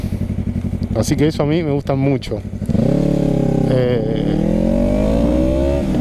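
A Yamaha MT-03 motorcycle with a new straight-through free-flow exhaust revs and pulls away with a rising engine drone after someone speaks over short throttle blips, the tone climbing steadily and loud up close.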